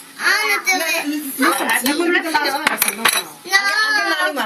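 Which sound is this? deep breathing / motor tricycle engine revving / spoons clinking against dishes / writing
spoons clinking against dishes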